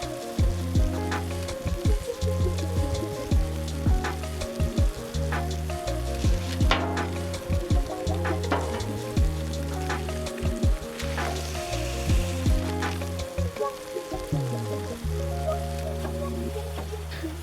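Sausage sizzles on a buttered Blackstone griddle, a continuous crackle with scattered sharp pops under steady, prominent background music, close and moderately loud, with no talking.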